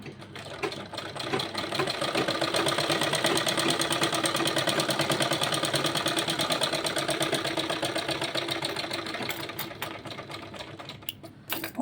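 A sewing machine runs steadily without pause, stitching a double seam on a small child's kurta; the close, even whir holds for nearly the whole stretch before slowing at the end, with no talking.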